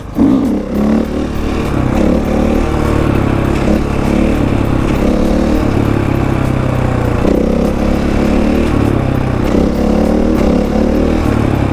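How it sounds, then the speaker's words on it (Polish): A motorcycle engine idles loudly and close by, a steady throbbing rumble with slight rises in revs and no talking. "A spróbujemy sobie wolne obroty."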